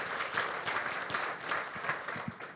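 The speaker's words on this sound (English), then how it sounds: "Please give them a round of applause, if you will." Steady applause from an audience at a county government event, honouring the county commissioners; dense, even clapping fills the space without a break.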